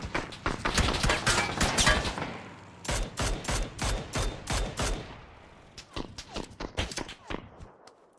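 Rapid bursts of gunfire in the battle royale game PUBG, a dense volley at first and then a run of sharp, evenly spaced shots, with voice chat underneath.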